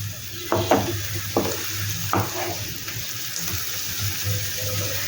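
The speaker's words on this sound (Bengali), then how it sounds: "আদা আর রসুনের পেস্টটা দিয়ে দিলাম। এবার এটাকেও এটার সাথে মিশিয়ে একটু ভেজে নেব" Ginger garlic paste fries in a pan for an egg malai masala, a continuous sizzle with several brisk stirring scrapes early on, then a steady hiss.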